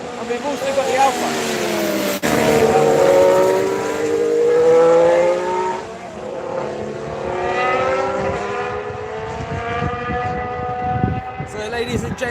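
Formula 1 cars, a Haas and an AlphaTauri, scream past on track with rising and falling engine pitch, loud and close, then fade as another car follows; a voice talks over the engines.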